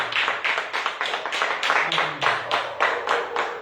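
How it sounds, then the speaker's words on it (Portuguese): A church congregation gives a round of applause after a closing prayer, with rhythmic, evenly spaced clapping that goes on for several seconds and is heard nearby with no voices over it. "Vamos dar uma salva de palmas."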